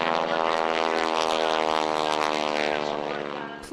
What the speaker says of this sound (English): Planes soar through the skies in Manitowoc